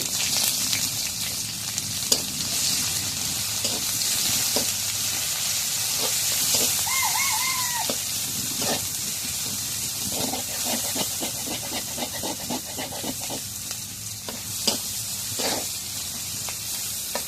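Onion and garlic fry in oil in a wok with a continuous, fairly loud sizzle, broken by scattered pops and crackles and a brief whistling tone partway through.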